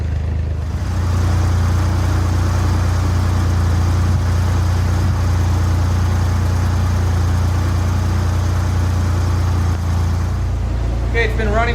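A 1963 Corvair engine idles steadily at close range with a loud, even low rumble that holds throughout, and a brief voice comes in at the very end.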